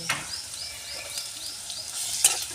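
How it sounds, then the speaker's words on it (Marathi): Chopped onion and cumin seeds fry in a pan and are stirred, giving a soft continuous sizzle with light rhythmic scraping strokes and a small metallic clink near the end. "कांदा आपण आता हळा हळा भाजून घेऊ एक चमचा जिरे ह्याच्यात टाकले"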